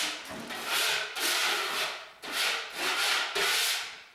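A scraper rasps across a wall in five rhythmic, close strokes, lifting loose face paper from damaged drywall.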